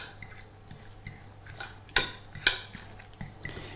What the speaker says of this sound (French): À l'aide d'une fourchette, j'écrase la purée.